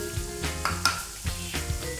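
Ginger added to hot ghee for dal khichdi, a close, steady sizzle with spoon stirring and scraping in the pan, a few louder clinks, no one speaking.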